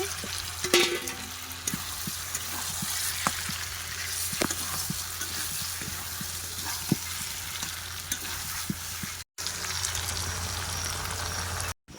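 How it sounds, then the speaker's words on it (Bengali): Fried potatoes go into a pan of poultry chicken curry, setting off a steady loud sizzle with scraping stirs and occasional clacks, one brief dropout near the end, no talk. "এবার ভেজে রাখা আলুগুলো দিয়ে দেব"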